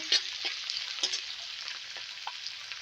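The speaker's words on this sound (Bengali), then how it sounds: "পেঁয়াজটাকে মিষ্টি জালে লাল লাল করে কষিয়ে নিলাম" Onion slowly browning in a pan over low heat, a soft continuous sizzle with occasional light clicks and scrapes from stirring, heard close and alone.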